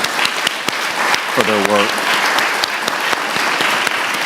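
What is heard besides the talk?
audience applause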